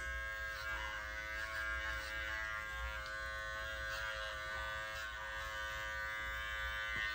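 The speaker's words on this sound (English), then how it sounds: "put my clipper on a 10 blade, and come in and trim the corners of the eyes." An electric clipper with a 10 blade trims around a Yorkie's eyes, giving a continuous, even motor buzz at close range with no talking.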